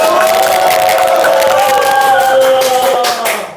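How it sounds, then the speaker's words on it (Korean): A crowd at a live event cheers loudly to welcome a visiting US ambassador, a thick wash of clapping and raised voices that holds steady and then eases slightly at the end. "박수 한번 주십시오."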